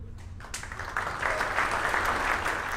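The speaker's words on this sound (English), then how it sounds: "There it is from Mission Control, met with a good cheer from our team." A mission control team at a Rocket Lab launch of NASA TROPICS satellites breaks into cheering and clapping, starting softly and swelling after a moment into a sustained, fairly distant burst of crowd noise.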